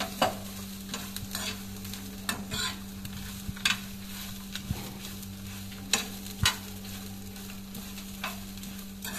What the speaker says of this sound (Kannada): ಇದನ್ನು ಸೇರಿಸಿ ಒಂದ್ಸರ್ತಿ ಎಲ್ಲ ಮಿಕ್ಸ್ ಮಾಡುವ